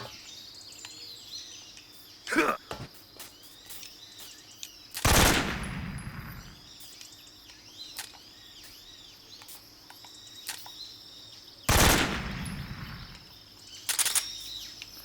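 Gunfire in the video game Metal Gear Solid 3: Snake Eater, a few loud sharp bursts spaced apart over a steady chorus of jungle insects and birds.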